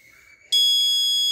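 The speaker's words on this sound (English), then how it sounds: "fire LED on, alarm on." An IIoT wireless sensor monitoring system triggers its fire alarm: faint tonal beeping gives way abruptly to a loud, sustained electronic ring that holds steady to the end.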